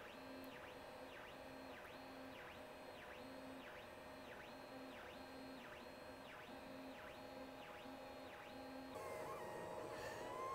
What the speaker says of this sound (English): the printer is now going for some more speed